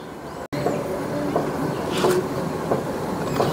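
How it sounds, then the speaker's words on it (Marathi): Mandovi and Konkan Kanya passenger trains arrive at Pernem station in Goa during the monsoon, heard as a steady rumbling rail noise with faint periodic clacks, not especially loud, after a brief cut at the start. "ही आली या साईडने, जी येते आहे ती आहे मांडवी आणि ही लागलेली आहे कोकण कन्या."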